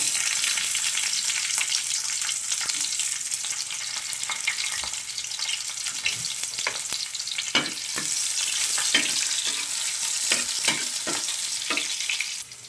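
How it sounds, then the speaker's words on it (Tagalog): Garlic and onion sautéing in a pan for a vegetable lunch dish, a continuous close frying hiss broken by frequent scraping stirs, with no voices. "Maggisa na ako guys ng mga lamas. Bawang yan guys. At tsaka sibuyas."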